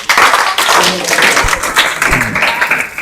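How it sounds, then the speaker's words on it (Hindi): An audience applauds for a group of students at a school test-results event, with loud, dense clapping throughout and a few sharper individual claps standing out. "एक बार इन सभी विद्यार्थियों के लिए जोरदार तालियां।"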